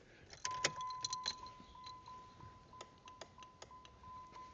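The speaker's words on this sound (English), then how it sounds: "you hear the clicking mechanism trying to go in, but none of the locks work" A series of soft mechanical clicks from a 2003 Dodge Neon SRT-4's failing door locks, scattered over a few seconds, with a faint steady electronic tone running underneath, quiet and close.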